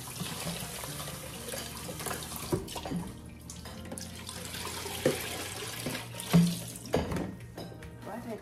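Tap water running into a kitchen sink while homegrown herbs are rinsed, a steady close splashing stream with occasional louder splashes and knocks, and a person talking over it.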